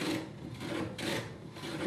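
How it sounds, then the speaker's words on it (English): Hand plane planing the edge of timber held in a vise, producing repeated raspy scraping strokes in a steady back-and-forth rhythm, close and moderately quiet. "put the timber back in the vise and plane one of the two edges"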